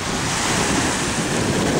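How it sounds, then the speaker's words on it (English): Sea breeze gusts against the microphone at Bowman Beach on Sanibel, Florida, a constant loud roar of wind blended with surf washing in, no voices. "Beautiful day, nice sea breeze"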